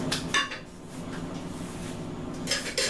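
An original George Foreman fry pan is handled on a stovetop, giving metallic clanks and scrapes near the start and end, with a quieter stretch of faint rattling between.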